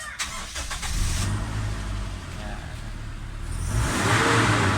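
A Toyota Innova engine idles with a steady low rumble, then revs up louder near the end under repeated throttle blips.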